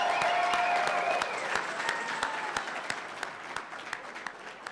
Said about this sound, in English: Let's make some noise for Coach Pasner.